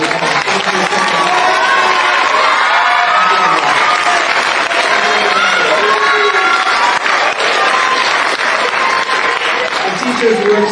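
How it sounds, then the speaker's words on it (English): Loud, continuous applause and cheering from an audience in a performing arts center honoring the teachers at a multicultural language festival, with whoops and voices mixed into the steady clapping throughout. "We're going to give you a round of applause."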